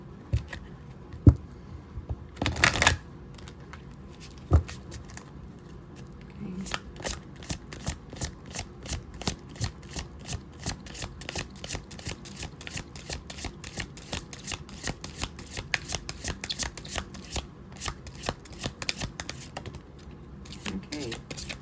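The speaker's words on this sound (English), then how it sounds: "I like how these cards like shuffle." A Mabon oracle deck of cards is shuffled close up, a steady run of rapid crisp riffling clicks with a few louder slaps, continuing for a long stretch at moderate volume.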